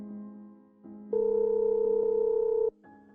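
A phone call rings through from a handset, with steady electronic tones that step up in layers and then hold one long, loud buzzing note before a brief change at the end.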